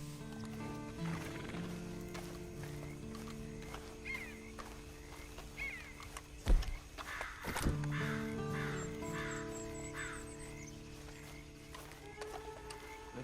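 Horse neighing with hooves clip-clopping in the Red Dead Online game, a sharp whinny over a steady bed of ambient outdoor sounds and distant fowl calls.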